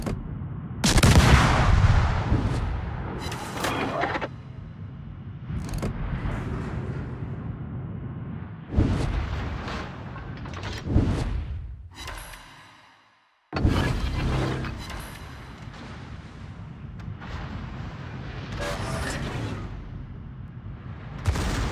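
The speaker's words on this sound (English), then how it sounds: "Concentrate fire on that enemy warship." Naval guns fire on an enemy warship in a Normandy coastal-defense video game mission, heavy booming shots and explosions rolling out in loud clusters with rumbling decay and a brief silent gap midway.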